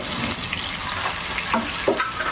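Catla fish fries in hot oil with a steady, close crackling sizzle and occasional louder pops, with no voices.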